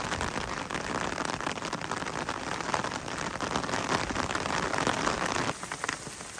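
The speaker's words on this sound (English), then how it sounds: "It's about 1 o'clock and the rain has started." Steady rain falls on the Colorado Trail with a dense, even hiss of drops striking the ground and gear close by, continuous and unbroken, easing slightly near the end, with no voices.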